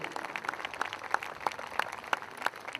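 Audience applause at a film awards show honoring film technicians, a steady patter of many hands clapping at moderate distance, fairly quiet, with no talk over it.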